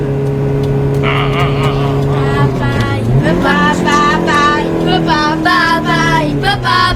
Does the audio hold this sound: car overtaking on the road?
yes